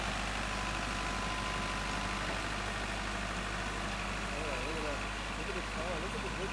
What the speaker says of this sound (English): we had a guy come in with a bulldozer